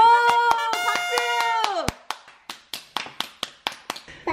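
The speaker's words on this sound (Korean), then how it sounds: "박수!" Hands clapping in a home kitchen, a handful of sharp separate claps in a steady rhythm following a sustained tonal sound that cuts off abruptly, close and fairly loud.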